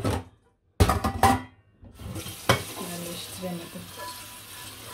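Food frying and being stirred in a pan in a home kitchen while sweets are being made, giving a few loud scraping bursts, a short pause, then a steady close sizzle with light clinks.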